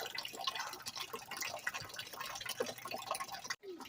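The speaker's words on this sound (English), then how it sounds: "water coming out now is pretty clear and transparent" Water drips and trickles steadily out of a homemade bucket filter packed with sand and lava rock, a faint, continuous patter with no talking.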